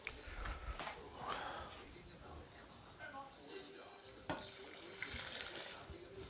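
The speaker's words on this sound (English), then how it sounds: "we're going to go ahead and bring it over and pour it into the bottles." Maple syrup pours and splashes into bottles, with faint clinks and a few handling knocks nearby, running steadily for several seconds.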